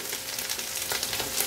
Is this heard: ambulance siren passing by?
no